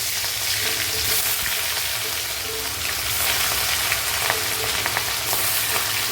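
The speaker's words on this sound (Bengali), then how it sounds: "চলুন প্রথমে মাছটা ফ্রাই করে নেওয়া যাক" Loud, continuous sizzling of rohu fish pieces frying in hot oil, a dense hiss with small spattering pops, close up and steady, no talking.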